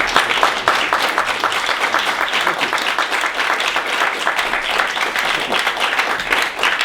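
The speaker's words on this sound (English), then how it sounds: "let's give him a round of applause now" A university audience at a Greek hoplite presentation breaks into loud, sustained applause, dense steady clapping from many hands close by, holding evenly for the whole stretch.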